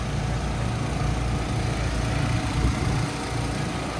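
A modified firewood processor engine runs with its stock exhaust replaced by a new muffler, giving a loud, continuous rumbling drone close by with no talking.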